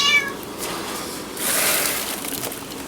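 A house cat meows once, close by, in a home kitchen where butter beans with ham are cooking, followed by a soft hiss of kitchen noise.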